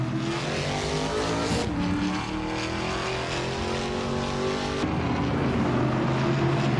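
A 2015 Renault Clio 4 Cup race car engine drones steadily and loudly, its pitch shifting through gear changes with a sharp break near the end, with no voices.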